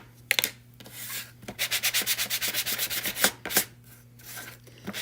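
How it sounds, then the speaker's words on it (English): Rhythmic rasping strokes of sandpaper rubbing against the edges of painted wood, a steady run of quick back-and-forth scrapes framed by a few slower passes, close up. "But I also love sanding the edges."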